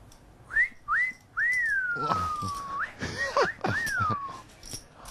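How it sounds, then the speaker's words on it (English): A man whistles a few short rising notes at a poker table, then longer sliding tones, with brief speech in between. "That's the whistle of a confident man."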